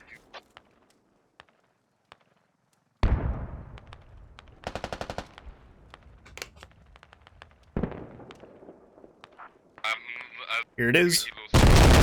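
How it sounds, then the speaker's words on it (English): An airstrike in a video game, with loud rapid bursts of machine-gun fire and booming explosions coming in several waves after a quiet start, with a short spoken remark. "Get that airstrike all up in your face"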